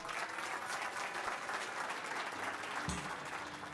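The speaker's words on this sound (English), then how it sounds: "please put your hands together in welcoming our Nelson Nash" An audience claps steadily and warmly to welcome speaker Nelson Nash, a dense, continuous round of applause filling the hall from start to finish.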